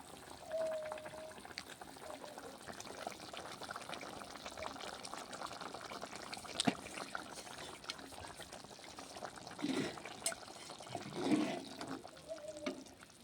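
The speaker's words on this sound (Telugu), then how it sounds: "కూర అయితే ఉడుకుతుంది ఇప్పుడు ఉడికేటప్పుడే పెట్టుకున్న ఈ మసాలా మసాలా పొడిని అయితే చల్లుతాను" Mushroom masala curry simmers in a pot in a village kitchen, a low steady bubbling and soft liquid churn with a few faint clinks, quiet and close.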